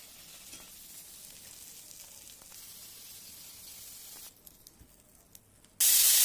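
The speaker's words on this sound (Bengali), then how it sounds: "একই তেলের মধ্যে আলুগুলো দিয়েও ভেজে নেব।" Potatoes frying in oil already used for fish, a steady broad sizzling hiss throughout that dips briefly with a few pops, then flares into a loud bright spray of spattering.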